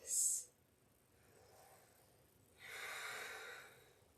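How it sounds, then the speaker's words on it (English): A strong ujjayi breath during a yoga flow: a short hissy sound at the start, then a long, audible throaty breath that swells toward the end, close and fairly quiet with no talking. "Ujjayi is strong."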